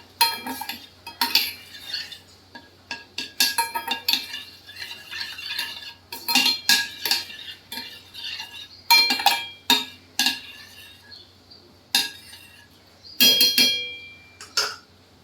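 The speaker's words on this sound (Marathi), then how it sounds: "ते पण असं छान ढवळायचं" A metal spoon scrapes and clinks against a pot of ginger tea with added water in short bursts of stirring, separated by quiet pauses, close by.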